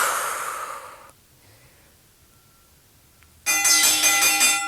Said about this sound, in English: Audible exhale to come up.